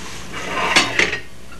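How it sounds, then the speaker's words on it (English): Butter is stirred in a pan on the stovetop while cooking a cider supper, giving a couple of sharp clinks and scrapes of a utensil against the pan. "And we stir our butter."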